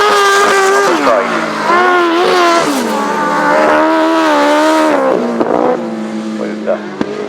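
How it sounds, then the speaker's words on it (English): Grasstrack racing motorbikes scream down the straight, their engines loud and close, a sustained high-pitched whine rising and falling in pitch as the bikes pass, with a commentator speaking over the racket. "Rob Wilson looks like he's gained about 2 bikes lengths"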